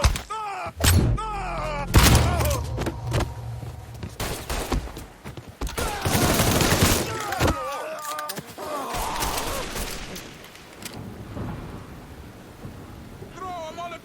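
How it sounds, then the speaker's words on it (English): Heavy gunfire in a shootout from the Mafia 3 Definitive Edition video game, bursts of loud sharp shots and rumbling impacts coming and going, with shouted voices in places. "He's shooting the shit out of me!"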